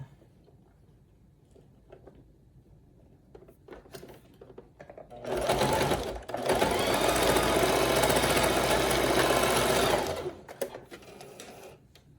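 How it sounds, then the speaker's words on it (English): Sewing machine stitching swimsuit fabric on the inside seam, a steady loud mechanical whir running for about five seconds in two bursts after quiet handling noises, then stopping. "This is the outside, but we're going to stitch on the inside."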